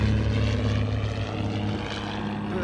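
Beechcraft Bonanza V-tail airplane flying right overhead, a loud, throaty propeller engine drone that holds strong and then eases slightly as it moves away.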